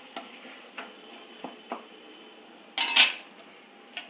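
Eggplant with turmeric cooking in a pan on a home stove, with a few light scrapes and taps of a spoon against the metal and a louder clatter of stirring near the end. Quiet, with no one talking.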